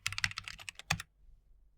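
Quick bursts of keys clatter on a computer keyboard as a prompt is typed, close and crisp for about a second before falling quiet.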